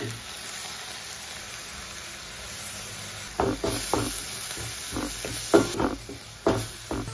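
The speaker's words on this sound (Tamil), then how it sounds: "இப்போ இந்த அரைச்சி வச்சோம் பார்த்தீங்களா தக்காளி சாறு, இதையும் ஊற்றிக்கலாம்" Tomato puree hits a hot pan of spicy chicken curry, a soft steady sizzle that turns into bursts of louder hissing and stirring scrapes in the second half, heard close up with no talking.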